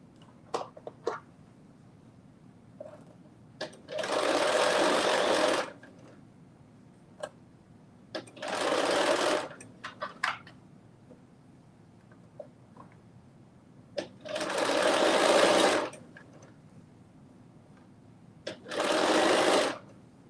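A sewing machine stitches fabric in four separate bursts of fast whirring, each a few seconds long, between quiet pauses with scattered light ticks and clicks, close by and no talking.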